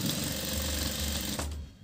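Sewing machine stitching scrap fabric for a tassel, a steady close mechanical rattle running continuously, then stopping abruptly near the end.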